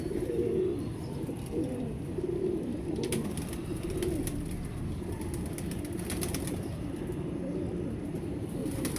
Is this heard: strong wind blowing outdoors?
no